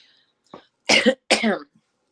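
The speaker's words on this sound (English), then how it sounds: "maybe grab a drink of water just to clear my throat out" Someone clears their throat close by: two short, harsh rasping bursts after a faint lead-in, then quiet.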